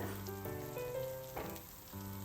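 Sliced capsicum sizzles steadily in melted butter in a hot pan over a high flame, a soft continuous fry with no voices.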